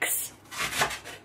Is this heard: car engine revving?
no